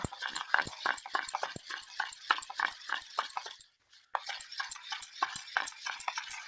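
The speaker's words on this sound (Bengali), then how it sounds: "আমি একটু দুধের সাথে এই বিস্কুট গুঁড়োর ব্যাটারটা একটু ভালো করে ফেটিয়ে নেব" Biscuit crumb batter whisked with milk in a bowl, making quick, rhythmic clicking and tapping strokes close by, with a brief pause partway through before the beating resumes.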